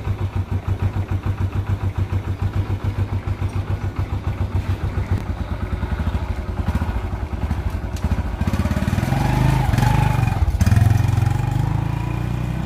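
A Honda Revo 110 motorcycle engine runs during a gear test after a clutch housing swap, idling with a steady rapid putter that rises into louder, rougher revving, with some clatter near the end.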